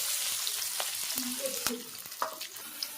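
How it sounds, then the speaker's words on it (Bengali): Whole garam masala, dried red chilli, bay leaf and cumin seeds crackle and sizzle in hot oil, with a steady close fry broken by sharp taps and scrapes of stirring in the pan. "গোটা গরম মশলা ফোড়ন দিয়ে দিলাম।"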